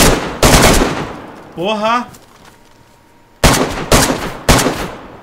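Bursts of automatic gunfire in the survival video game DayZ, several loud volleys near the start and a run of three sharp bursts at the end, with a man swearing between them.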